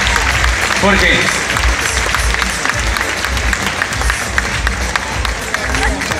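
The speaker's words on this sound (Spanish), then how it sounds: "Fuerte el aplauso." At a recognition event for successful Omnilife members, a crowd applauds loudly amid cheering and murmuring, with a voice calling out a name over the clapping.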